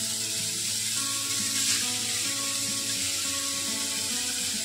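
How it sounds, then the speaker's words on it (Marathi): Chopped tomatoes fry with onions in a pan for a dhaba-style kaju masala curry. A steady, close sizzle continues without pause. "त्यातच आपण टोमॅटो भाजून घेणार आहे"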